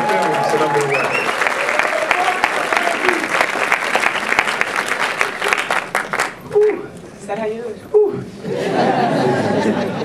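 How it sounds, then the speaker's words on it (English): A graduating class at a film school ceremony breaks into sustained, dense applause with some chatter and laughter mixed in. The clapping fades after about six seconds, leaving scattered crowd noise and talk. "I would now like to ask our graduating class to applaud you all"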